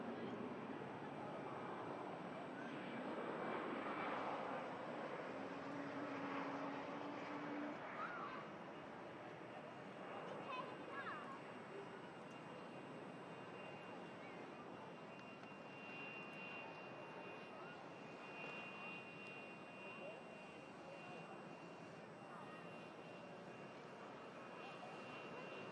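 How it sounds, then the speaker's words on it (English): A Loganair airliner arriving from Newquay, heard from an airport plane-spotting spot as a steady distant engine roar that holds through the whole stretch, with some quiet talk in the background. "An EasyJet that was on your screens before is out for Sharm el Sheikh as the Logan Air arrives in from Newquay"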